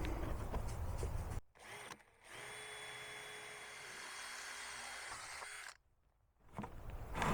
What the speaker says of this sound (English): I need to drill a hole in it so I can put my marker through to mark the bucket.